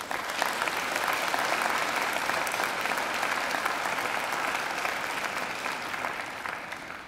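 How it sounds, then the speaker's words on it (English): A graduation ceremony audience gives a speaker a long, full round of applause in a hall. The dense, even clapping holds strong for several seconds and then begins to thin slightly. "I think she deserves another great round of applause."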